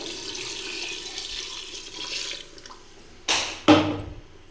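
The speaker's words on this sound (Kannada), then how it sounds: "ಆ ನೀರು ಹುಯ್ತಾಯಿದ್ದೀನಿ ಇದರೊಳಗಡೆ" Water pours into a pot of egg and chicken curry in a home kitchen, a steady trickling splash that fades, then two short sharp splashes near the end.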